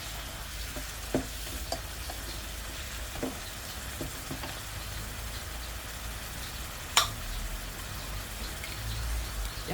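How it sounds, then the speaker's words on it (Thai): Pork shoulder blade cut stir-frying in a pan: a faint, continuous crackling sizzle with scattered light scraping clicks from stirring and one sharper knock near the end. "ผัดใบพายก่อนนะคะ ให้สุกๆหน่อย"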